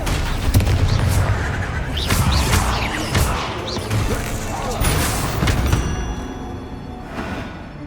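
Spell explosions and combat in the Hogwarts Legacy video game: dense, loud bursts, booms and crashes come one after another, with a voice casting spells over the blasts throughout.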